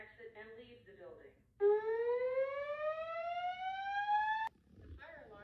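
An apartment building fire alarm sounds a loud rising electronic tone lasting about three seconds, with a recorded voice announcement before and after it.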